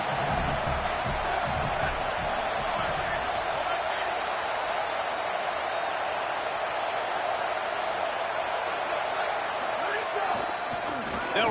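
Hostile stadium crowd at a UL Monroe college football game, a constant loud roar of many voices with a thud or two early, sustained throughout under commentary.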